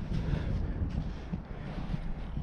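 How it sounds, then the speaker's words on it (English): Wind rushes across a snowy mountain trail near 10,000 feet, a steady, moderately loud buffeting roar with small swells and no voices. "but the wind has definitely picked up."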